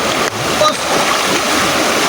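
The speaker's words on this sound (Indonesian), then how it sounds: "sebelum arus sungai ini semakin deras menghanyutkan kalian" A rushing river current in a loud, steady broadband wash of water, close and continuous with no breaks.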